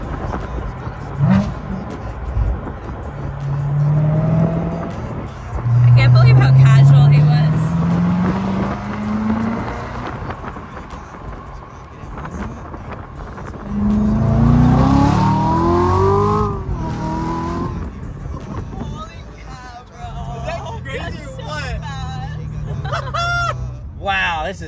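A Z06 with a 650-horsepower engine and rear-wheel drive, revving and accelerating hard through several rising pulls, loud and close from inside the car, with people talking over it.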